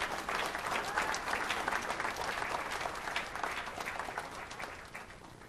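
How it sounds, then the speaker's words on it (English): An audience at a school district board meeting applauds newly appointed elementary school staff, steady sustained clapping from a room full of people that slowly fades toward the end. "let's just give them another round of applause."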